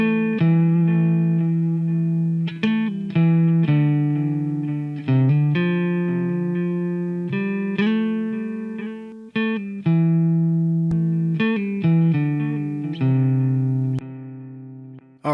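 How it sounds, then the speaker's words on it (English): Guitar preset run through Waves J37 tape saturation with wow and flutter, a clean chord progression of sustained plucked chords whose pitch wavers slightly, steady and fairly loud with no talking. "just one that's going to highlight the wow and flutter a little bit more"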